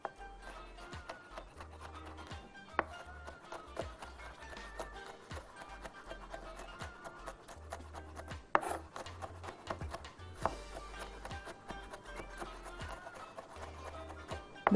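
Onion chopped finely with a knife on a cutting board in a home kitchen, quick irregular bursts of sharp taps and scraping blade strokes, close and crisp, with short pauses between runs and no talking.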